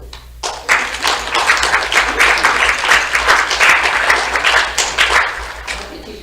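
Audience at a poetry reading breaks into applause, a dense burst of many hands clapping that starts abruptly after a brief pause and holds steady before tapering slightly.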